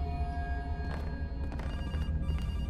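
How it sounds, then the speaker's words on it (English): A telephone rings in the horror game Case: Animatronics, a steady electronic bell tone sustained under a low room hum, moderately quiet and continuous with no voices. "I'm not answering that phone yet."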